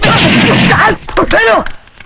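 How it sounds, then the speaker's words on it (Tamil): A gunshot in a Tamil film scene, one sharp loud blast at the start followed by ringing decay, with a voice speaking right after. "சார் நீங்க சுட்டீங்க சார்"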